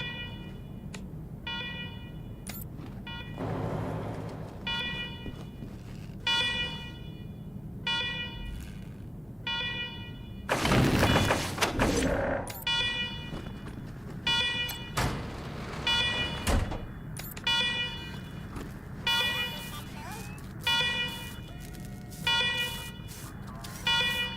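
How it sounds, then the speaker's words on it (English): Electronic alarms in a secure government facility in the Wasteland 3 video game repeat in short, regular pulsing bursts. A loud burst of noise cuts in partway through. "let's talk after you kill the alarms. I can hardly hear myself think."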